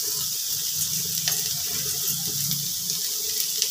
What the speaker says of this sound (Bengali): এবারে আমি জল দিয়ে দিচ্ছি মূলোটা সেদ্ধ হওয়ার জন্য।